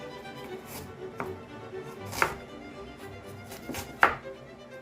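A knife chops an onion on a cutting board in a few separate sharp thunks, spaced irregularly, close by and fairly clear over quiet room noise.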